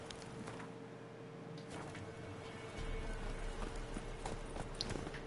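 Horse hooves clip-clopping in The Witcher 3 on PS4, a faint, steady walking rhythm of hoof falls under low game ambience and music, with no speech.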